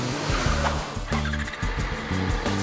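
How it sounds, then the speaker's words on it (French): A motorcycle downshifts as the clutch is eased out with a quick throttle blip to keep the rear wheel from locking. The engine note sits close and loud, surging and dropping in a rhythmic pattern of revs throughout. "On relâche doucement l'embrayage en mettant le petit coup d'accélérateur pour éviter de bloquer la roue arrière"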